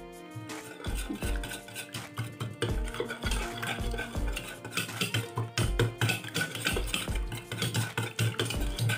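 A spoon stirs yogurt into two eggs in a bowl, brisk rhythmic clicking and scraping strokes against the bowl repeating close and loud throughout, with no voices.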